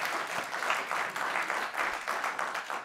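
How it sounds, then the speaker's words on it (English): Studio audience applause at a late-night political talk show, a steady, dense wash of many hands clapping at moderate level throughout, with no talking over it. "I would say hold your applause, but I know it's hard."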